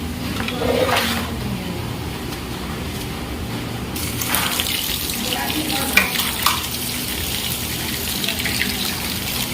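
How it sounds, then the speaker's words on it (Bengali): Katla fish pieces are washed under a running tap, a steady wash of flowing water splashing in a sink throughout, with a couple of brief clunks near the middle. "কাতলা মাছগুলো আমি ভালো করে ধুয়ে নিই"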